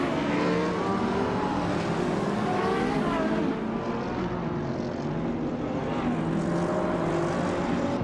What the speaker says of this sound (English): Newts is driving a 2018 Ford Mustang Shelby SS, a muscle car known for its power and aggressive styling